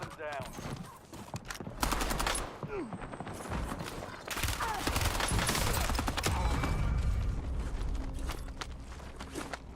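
Video game gunfire in Call of Duty Warzone: dense, rapid bursts of shots rattle over a steady background of battle noise and effects, holding loud throughout.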